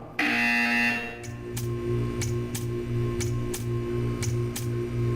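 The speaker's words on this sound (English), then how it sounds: "You will hear a buzzer." A buzzer sounds in the puzzle game Portal 2 after a loud opening burst, repeating as a steady series of pulsing tones with regular sharp ticks over a low hum.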